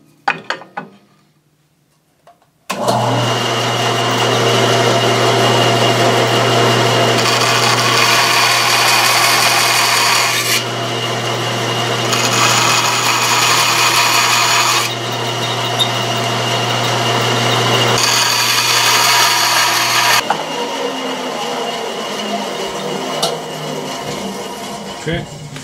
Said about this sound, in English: I'm going to use the bandsaw because it's quicker. And I'm just doing this freehand.